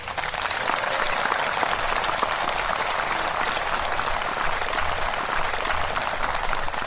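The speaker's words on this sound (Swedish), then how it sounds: "Tack så mycket för de här värmande applåderna denna förmiddag i gropen" Steady, dense applause from an audience at an outdoor morning concert, close and continuous for about seven seconds with no talk.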